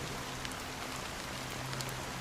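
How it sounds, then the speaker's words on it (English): Steady rain falls in the video game Honkai Star Rail, a soft, even hiss of drops on surfaces, continuous and moderately distant, with no voices over it. "it's still raining."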